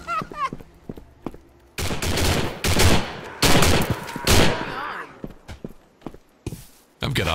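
Gunfire in the video game Postal 4, a series of loud, sharp broadband bursts in several clusters with brief gaps between them, mixed with someone speaking throughout.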